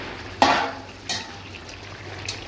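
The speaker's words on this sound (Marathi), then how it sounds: "चला एकदा भाजीला घाटा मारून दाखवते तुम्हाला" Agari-style vegetable curry being stirred in an open pot, a few distinct scraping strokes with soft sizzling in between, fairly quiet and close, no talking.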